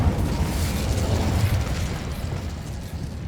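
Incendio fire spell cast in the video game Hogwarts Legacy: a loud, sustained roaring whoosh of flame with deep rumbling body, holding steady for about three seconds before easing slightly at the end.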